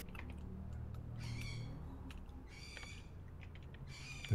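Birds calling in the video game Minecraft, a few short chirping bursts over a soft low hum, fairly faint and spaced apart.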